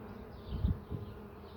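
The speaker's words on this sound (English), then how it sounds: "it looked like the bees were balling up on it" Honey bees buzz faintly around frames in an open hive, a low hum that swells briefly in the middle and then settles back to a soft drone.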